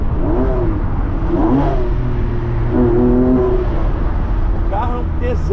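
A Porsche 911 Carrera S Cabriolet with a manual gearbox revs up and drops back through several gear changes on town streets in Gramado, loud and close, with someone talking over the engine.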